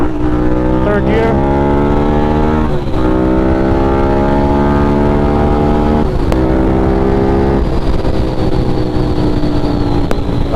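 A Suzuki SV650 motorcycle engine pulls hard in third gear during a night ride in New York City, loud and close with rising harmonic pitch, dropping at brief gear or throttle changes before climbing again.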